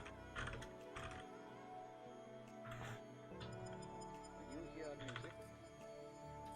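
Quiet clicking of keys on a computer keyboard comes in short bursts of rapid taps, mixed under people talking.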